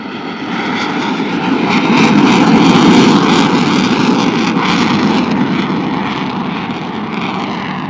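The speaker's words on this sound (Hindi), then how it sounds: "F-16 अपनी कम से कम रफ्तार पर परवाज करने की सलाहियत का मुजाहिरा करते हुए" An F-16 fighter jet flying low and slow past a reviewing stand at an air force passing-out parade in Risalpur, Pakistan, its loud engine roar swelling and fading steadily as it passes.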